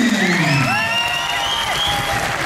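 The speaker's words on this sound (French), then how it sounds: "On applaudit," Loud cheering and whooping from a crowd at a cosplay awards ceremony, high voices rising and swooping over a bed of applause, sustained and close throughout.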